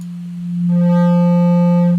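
A steady low buzzy hard-clipped distortion tone with a bright, harmonic-rich edge swells in and holds for about two seconds, sounding like a square wave.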